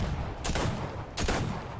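Ginger blaster firing in Fortnite Save the World, two sharp gunshot bursts about three quarters of a second apart, loud and close with no talk over them.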